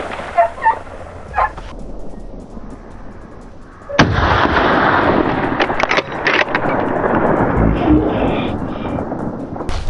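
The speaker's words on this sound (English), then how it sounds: "The gunshot roared, dust filled the air, and the beast collapsed" A gunshot during a wild boar hunt, one sudden loud blast followed by a long roaring, rumbling wash of noise after a few quieter pops and clicks.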